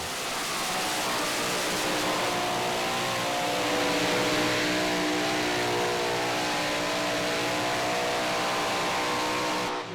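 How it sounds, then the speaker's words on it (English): A super modified pulling tractor roars loud and close as it drives a sled down the track at a Saluda, SC pull, its engine revving hard and steadily for the full stretch before cutting off at the very end. "the box topped off on the sled, and it was like it begged the tractor for more, and it delivered"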